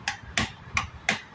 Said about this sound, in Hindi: इसको ठोक के टाइट कर देंगे